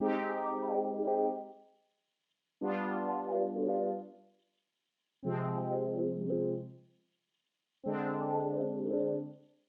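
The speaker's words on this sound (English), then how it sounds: "so I used this Mini Goes Crazy preset from the Loophole Bank" Four dry chord stabs from the Analog Lab Mini Goes Crazy preset ring out one after another, each swelling briefly and fading to silence before the next.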